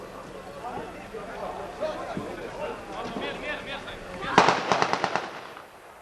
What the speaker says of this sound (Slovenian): Še neki streli.